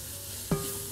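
Taco soup ingredients with seasoning are stirred in a pot: a single brief scrape of a utensil over a quiet, continuous sizzle.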